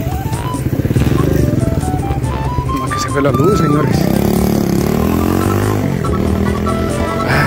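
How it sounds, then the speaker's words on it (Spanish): A motorcycle passes on a street at night during a power outage, its engine a steady loud drone that rises and shifts in pitch across the whole clip, with someone talking over it. "Ahorita vamos a esperar que pase la moto"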